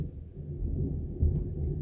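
Low, rolling thunder rumbles steadily through a calm setting, with a heavier swell just past the midpoint, deep and sustained with no voices.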